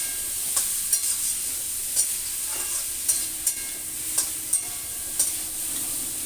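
Rohu fish pieces frying with turmeric in a pan: a steady close hiss of hot oil, punctuated by several sharp clicks of a spatula, with no voices.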